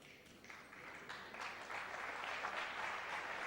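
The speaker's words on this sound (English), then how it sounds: "Knowledgeable crowd, yeah, appreciating Davis's attempt." A snooker crowd applauds a player's attempted shot with moderate, steady clapping from across the hall, swelling slightly as it continues.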